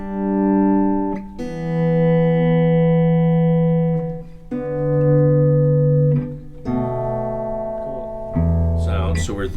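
A guitar rings out double stops, several sustained two-note shapes that each decay before the next is struck, close and clear with no talking.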